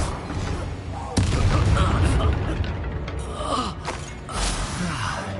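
A magical blast from the Expulso spell in Hogwarts Legacy erupts as a sharp boom with a rumbling tail, set among other spell effects and surrounded by voices and gasps.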